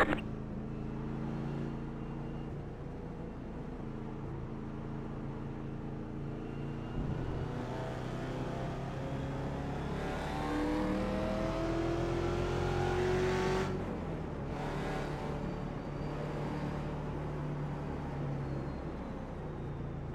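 Race cars roll through the pits during the Roar Before the Rolex 24, engines droning and rising in pitch as they pass close by, one car revving up and away.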